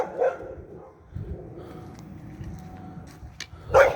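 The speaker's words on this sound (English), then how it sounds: "Neighbor's dog over here." A neighbor's loose dog lets out a short bark near the start and another near the end, with muffled rustling and low noise in between.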